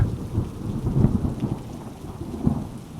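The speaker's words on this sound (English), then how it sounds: "It was a stormy night, with rain pouring down and thunder rumbling in the distance." Thunderstorm ambience with steady rain and rolling low thunder, the rumbles swelling and fading at moderate volume with no voices.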